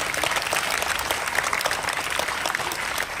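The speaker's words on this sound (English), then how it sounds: "Can we have a big round of applause for Sir?" Audience applause for a chief guest at a school Independence Day 2023 gathering, steady dense clapping from a crowd that holds evenly for the full stretch without a break.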